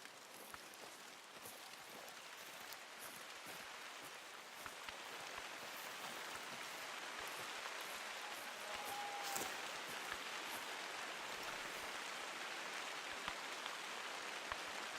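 Rain falls steadily in the hunting game The Hunter: Call of the Wild as a soft, constant hiss with scattered droplet ticks. It swells a little partway through and stays quiet throughout.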